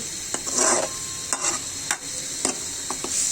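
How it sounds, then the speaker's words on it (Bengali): Onion, garlic, ginger and spices frying in a pan under a steady sizzle, with a spatula scraping and knocking at irregular intervals, close up and without talk. "মশলাটা কষিয়ে নিচ্ছি ভালো করে"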